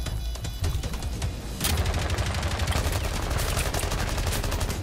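Dense, sustained gunfire in Rainbow Six Siege, close and loud, with rapid overlapping shots and bursts running throughout and growing heavier after the first second and a half.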